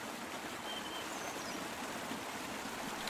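A steady waterfall in a video game, rendered as one continuous moving surface, rushing as a constant broadband wash of falling water with no breaks throughout.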